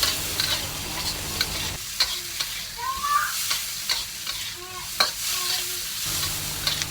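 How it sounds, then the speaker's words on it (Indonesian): Pineapple fried rice, a Thai dish, is stir-fried in an oiled pan: a steady sizzle carries repeated scraping, tossing strokes of the spatula at close range, with no one talking. "Jangan lupa untuk selalu digoreng juga, dioseng-oseng seperti ini supaya matangnya pun rata."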